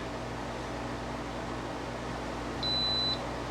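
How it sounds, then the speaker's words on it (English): A single steady electronic beep from an Instant Pot sounds for about half a second over a quiet background hum of a fan or appliance. "So you just wait a few seconds and it'll beep"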